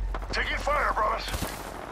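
Gunfire in the battle game Apex Legends on PC: short bursts of shots crackle in quick succession under a game voice line, loud and close.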